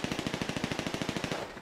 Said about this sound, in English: Blake just shot me dead